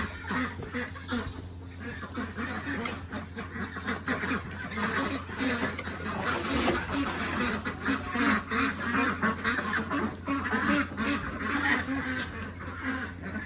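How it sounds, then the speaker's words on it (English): Farm ducks quack continuously and loudly while eating scattered grain, a dense overlapping chorus close by with no one speaking. "They're loud even when they're eating."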